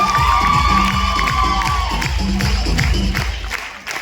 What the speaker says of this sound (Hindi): इनके स्वागत के लिए जोरदार ताली होना चाहिए